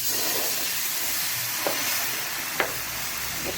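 Ghee sizzles on a hot pan in a steady, loud hiss with crackling spatter. A couple of faint clinks from stirring or a lid sound close by, and nobody speaks.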